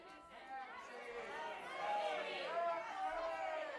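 A live audience at an intimate music show calls out a mixed, overlapping response, split between two singers, a steady wash of many voices cheering and shouting at once for a few seconds.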